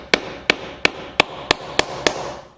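A hammer's convex face strikes the wooden sides of a blind mortise seven times at a steady, even pace. The blows are sharp, close, solid knocks, and no one talks over them.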